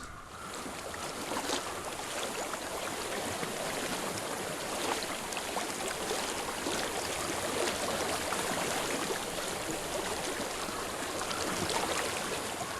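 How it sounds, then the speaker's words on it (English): Flowing water of a stream in the video game Hellblade: Senua's Sacrifice, a steady soft rushing wash with faint wind, heard alone without talk. "I hear water."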